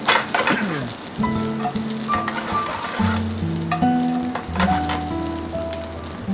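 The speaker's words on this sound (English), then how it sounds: "we have the green beans cooking" Green beans (string beans) frying in a hot pan give a loud, continuous sizzle with crackling spatters, while sustained musical tones play faintly in the background.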